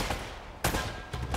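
Machine gun fire in the video game Uncharted: Drake's Fortune, two or three quick sharp bursts of gunfire heard at moderate distance in a short stretch of game audio.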